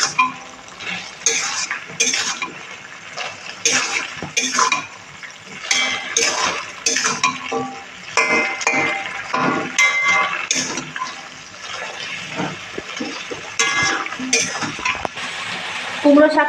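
Mustard paste is stirred into pumpkin greens and stalks in a pan, with repeated loud spatula scrapes, clinks and knocks against the metal in an uneven rhythm.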